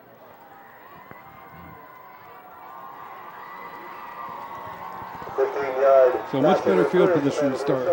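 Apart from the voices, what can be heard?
students cheering in the stands at a high school football game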